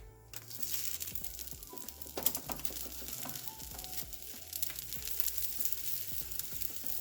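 Black bean veggie burger patties fry in avocado oil in a pan on a stove, a steady close crackling sizzle with scattered sharper pops, no voices.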